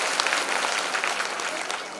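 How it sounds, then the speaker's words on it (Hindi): An audience at a Shiv Mahapuran religious discourse in a village gathering claps together in dense, steady applause that stays loud and even from start to finish. "तालियां मारो।"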